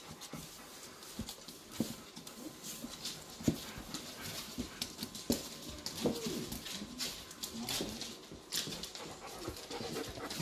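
Several dogs meeting a deaf dog, with repeated barks, panting and snuffling at close range, scattered irregularly against a busy outdoor background with no talk.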